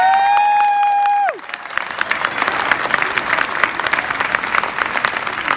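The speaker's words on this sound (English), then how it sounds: "Can I have a round of applause for our panelists?" A brief electronic tone cuts off, and then a convention audience at AlienCon breaks into sustained applause for a panel, with scattered cheers in a crowded hall.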